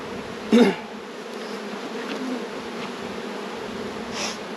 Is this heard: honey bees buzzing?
yes